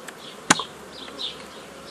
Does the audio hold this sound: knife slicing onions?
no